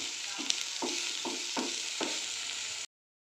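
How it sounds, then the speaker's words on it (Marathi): Hara bhara kebab mixture frying and being stirred in a pan, a steady close sizzle with soft regular scrapes of the spoon roughly every half second, no voices, cutting off abruptly near the end. "पाच मिनटं साधारणतः याला फ्राय करून घ्यायचं"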